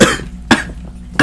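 Harsh, heavy smoker's coughing, three forceful coughs in quick succession, loud and close with no talk.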